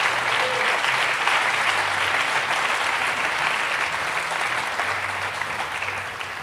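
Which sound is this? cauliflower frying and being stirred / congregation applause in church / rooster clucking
congregation applause in church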